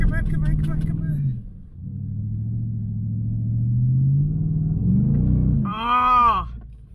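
Ford F-150 Raptor R in Baja mode climbing a hill off-road, a deep, loud engine rumble that rises and swells under load, with voices talking over it.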